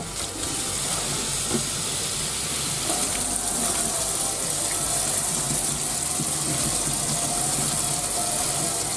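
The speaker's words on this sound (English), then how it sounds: "I'm still going to continue rinsing." Running tap water rinsing sprouting seeds in a kitchen, a steady close hiss and splash of flowing water lasting throughout without pause.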